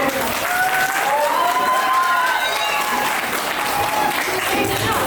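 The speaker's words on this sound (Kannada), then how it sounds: "ಅವರಿಬ್ಬರಿಗೂ ಒಂದು ಜೋರ ಚಪ್ಪಾಳೆ ಕೊಡ್ತೀನಿ ನೋಡೋಣ" An audience at a traditional wedding gives a couple a big round of applause, a loud sustained wash of clapping from many people, with high singing or whistle-like tones and voices carrying over it.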